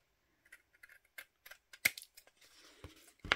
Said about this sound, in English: And then we're going to cut this off. We're going to trim these two pieces off.